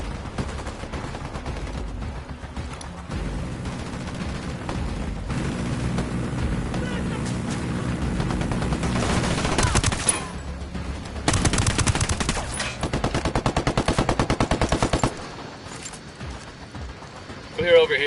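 Sustained bursts of automatic gunfire and single shots in a Ghost Recon Wildlands firefight, loud and continuous with dense rattling volleys that peak toward the middle and end.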